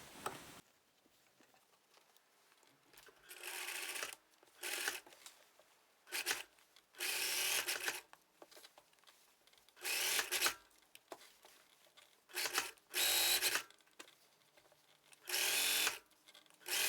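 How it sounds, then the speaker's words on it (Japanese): A sewing machine stitches along the facing edge of a high-neck vest, running in repeated short bursts of rapid mechanical chatter separated by quiet pauses, close and fairly loud, with no talking. "見返し端5ミリのところにステッチをかけます"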